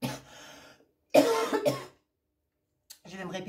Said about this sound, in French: Je vais me répéter, je tousse toujours autant.